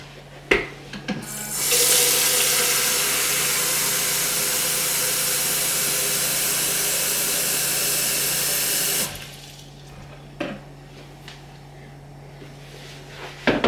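Water poured from a measuring jug into a pan, 500 millilitres during a home baking activity, a steady splashing stream lasting several seconds, close and fairly loud, then stopping into quiet room noise.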